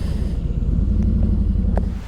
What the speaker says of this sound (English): It's just holding a high idle like it thinks the head temps are cold.